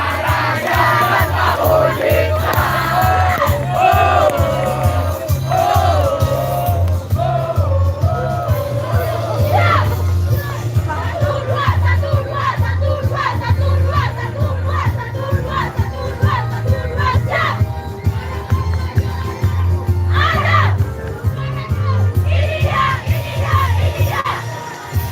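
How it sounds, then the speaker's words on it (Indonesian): A large crowd cheers, yells and whoops loudly and continuously at the start of a 17 km women's marching race for the Indonesian Independence Day celebration in Bali, with a low rumble and shouts throughout. "Boleh kita beri tepuk tangan sekali lagi pada LPK Hotel and Hospitality of Bali"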